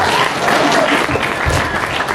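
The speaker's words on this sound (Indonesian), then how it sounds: "Tepuk tangan dulu untuk Bella." A student audience at an anti-drug awareness talk in a high school gives loud, continuous applause throughout, a dense wash of clapping hands with no break.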